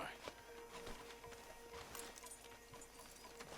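A horse walks in Red Dead Redemption 2, its hooves giving soft, uneven clip-clops under game ambience while voices talk over it.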